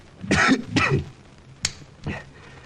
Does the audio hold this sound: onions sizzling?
no